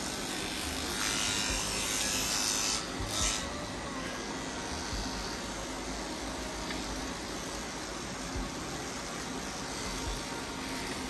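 Electric clippers shave down a doodle dog's coat with a steady, close, low buzzing drone that runs the whole time, with slight changes in tone as the blade moves through the fur.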